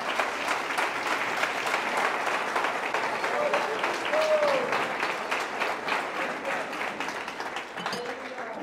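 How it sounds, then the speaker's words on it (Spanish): A church congregation gives loud, sustained applause in praise, a dense wash of clapping from many hands with voices calling out over it throughout. "le damos palmas fuertes de alabanza para el Señor"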